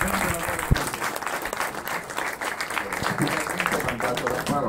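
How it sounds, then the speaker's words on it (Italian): A crowd claps steadily throughout, dense and sustained applause filling the room at a loud, even level. "segretario uscente Roberto Puricelli, a cui direi di fare un grande applauso"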